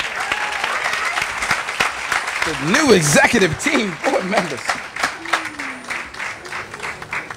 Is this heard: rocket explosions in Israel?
no